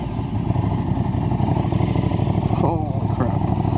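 An Aprilia RS660 sport motorcycle engine runs with a steady low droning rumble close by, under a person talking.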